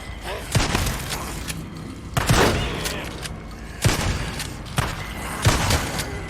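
Gunfire in the PS4 game Days Gone, five or six loud, sharp shots spaced about a second apart, each with a short booming tail, with a voice talking between them.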